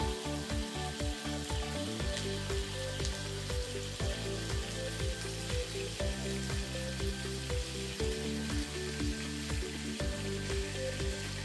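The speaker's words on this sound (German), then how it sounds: "In einer Pfanne habe ich jetzt das Olivenöl erhitzt und jetzt fange ich an, bei hoher Hitze die kleinen Hackbällchen anzubraten." Small minced-meat balls sizzle in hot olive oil in a pan over high heat, with a steady, close crackle of frying and faint stirring throughout.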